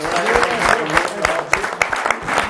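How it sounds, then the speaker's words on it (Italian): At a CONI Veneto roller hockey federation gathering, the audience gives a short burst of clapping for a world champion skater, uneven and crowded, with voices talking over it. "Facciamo un applauso a Erika"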